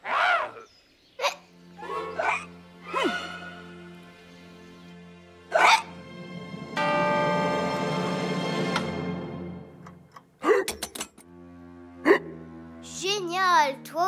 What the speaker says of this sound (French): Tu as le hoquet maintenant.